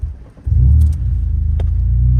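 A Mercedes 190E Evo 2 replica engine cranks briefly, then catches and settles into a steady, loud, close idle rumble.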